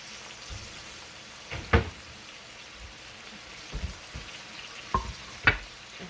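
Pork chops browning in a pan, a soft steady sizzle with a few louder pops and spatters of grease breaking through, fairly quiet with no talking.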